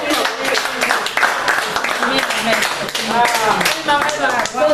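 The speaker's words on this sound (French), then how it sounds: "Il faut applaudisser, applaudisser, applaudisser." Church congregation claps and cheers loudly and continuously, mixed with shouting voices and excited talk throughout.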